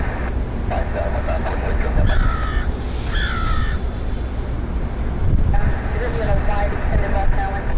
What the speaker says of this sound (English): I love crows. They're so smart.